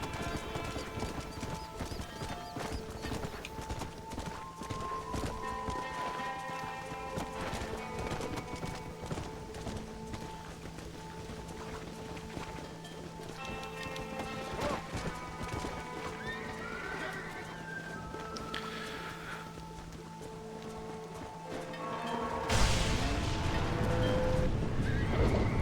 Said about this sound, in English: They're spooked! We have to stop them stampeding!